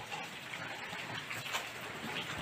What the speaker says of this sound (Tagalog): Yan, ulan.